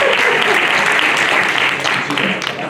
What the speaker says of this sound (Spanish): Un aplauso a Piedad porque